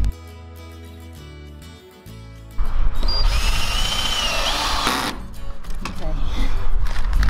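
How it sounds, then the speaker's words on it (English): A power drill driving screws through door hinges, a loud close whirring burst after a quieter stretch of background music, with a voice speaking over it. "my dad here was screwing the hinges on for me"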